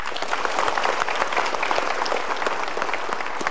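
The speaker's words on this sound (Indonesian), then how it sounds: "Kita berikan tepuk tangan." Audience applause fills a studio at a motivational talk show, dense steady clapping from a crowd sustained throughout at even loudness, with no voices over it.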